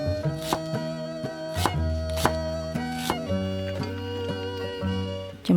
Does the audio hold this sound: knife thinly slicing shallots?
yes